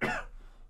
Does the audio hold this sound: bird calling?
no